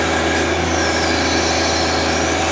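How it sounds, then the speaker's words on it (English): A tractor digging a French drain for an off-grid tiny house runs steadily nearby, a continuous engine drone with a low idling throb, loud and unbroken throughout, with no talking. "we're digging the French drain right now with the tractor"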